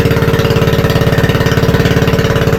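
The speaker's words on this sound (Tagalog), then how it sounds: "At pinapanda rin ni Dagi yung sa makina" A small engine runs at a loud, steady idle close by, its rapid regular chugging pulse holding unchanged throughout with no voices.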